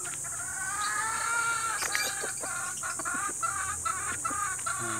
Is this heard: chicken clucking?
yes